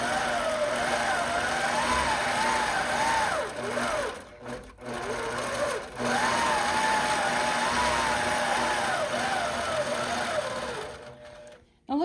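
An APQS longarm quilting machine sews down the sides of a quilt with a close, steady motorized hum that rises and falls in pitch, pauses briefly twice, then cuts off near the end.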